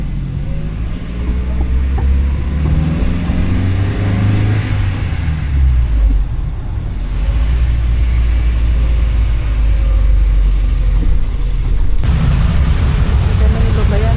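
Road traffic in Bali rumbles past with cars and heavier vehicles, engines droning and revving nearby in a continuous low roar, with a louder surge near the end.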